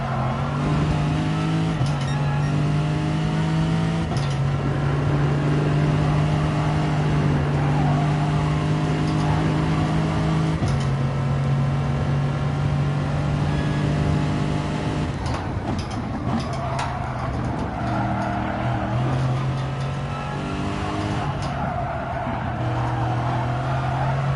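Race car engine at full throttle in GT Sport at the Nürburgring, a loud continuous roar climbing and dropping through gear changes, with tyre squeal and other cars nearby; no talking.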